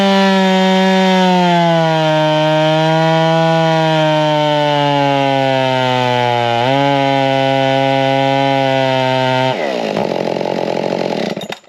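A Husqvarna 572xp chainsaw fitted with a modified factory muffler screams at full throttle close up, a loud sustained tone that dips slightly under load before breaking into a rougher, noisier burst and cutting off at the end.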